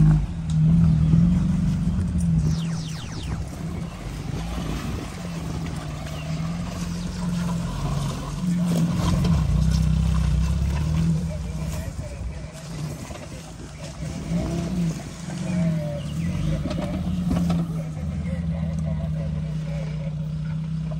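Trial motorcycles ridden on an off-road trial track at a small rally, a continuous mid-distance engine drone that swells and eases as the bikes work the course, without a pause throughout.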